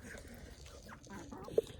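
Chickens clucking softly while rice is scattered for them, a few brief, faint calls at close range over a quiet background, ending with one sharper cluck.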